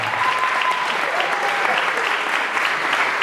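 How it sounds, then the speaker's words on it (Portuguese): Audience in a church applauding for Our Lady, a dense, steady wash of clapping lasting throughout at close range, with no speech over it. "Palmas para Nossa Senhora."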